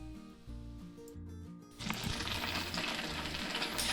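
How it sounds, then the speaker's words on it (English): Wontons drop into hot oil in a skillet, and a quiet low hum gives way to a dense, steady crackling sizzle that fills the rest of the stretch. "I'm just going to fry these up."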